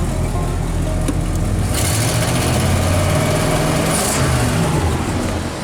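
A Ford 360 FE V8, freshly fitted with new spark plugs, roars close and loud as the throttle is opened, holding a strong steady rev with a brief surge partway through.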